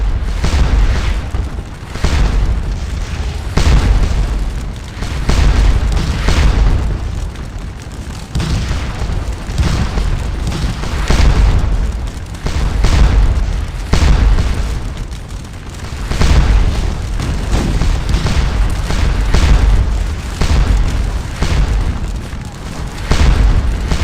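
Napoleonic-era artillery fires repeatedly in a Waterloo battle game: deep booms and blasts recur in irregular waves over a constant loud battlefield din.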